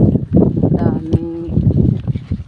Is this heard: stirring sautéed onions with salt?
no